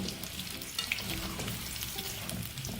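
Round gourd pieces (tinda) fry in oil with a dense, steady bubbling crackle, stirred now and then, close and moderately loud with no talking.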